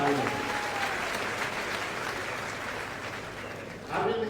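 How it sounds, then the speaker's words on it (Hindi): Sustained crowd applause at an Arvind Kejriwal political rally in Meham, steady and dense throughout, with a fresh swell of clapping and cheering near the end. "जोरदार तालियां।"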